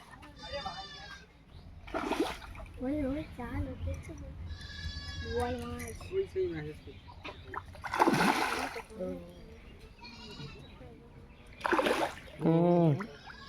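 A hooked catla fish thrashes in pond water as it is landed, sending out several loud, brief splashes amid excited voices talking nearby.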